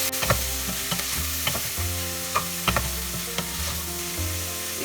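Celery, bell pepper and mushroom stir-fry in a pan for vegetable soup, a constant close sizzle broken by repeated clacks and scrapes of a spatula working the pieces.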